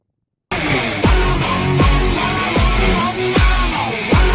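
Horse hooves clop at a steady walking pace, about six evenly spaced strikes heard up close over a dense, busy background.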